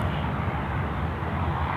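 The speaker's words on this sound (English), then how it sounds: "So the Cathay aircraft now coming out onto the runway." A Cathay Pacific airliner rolls out onto the runway at Sydney Airport, its engines giving a steady, fairly loud jet roar heard from a distance without interruption.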